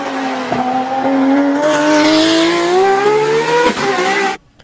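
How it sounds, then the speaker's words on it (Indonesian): A toy Bugatti race car's engine sound revs steadily upward for about four seconds, loud and close, with a whining, climbing tone before cutting off abruptly. "Lihat teman-teman, ada mobil balap Bugatti."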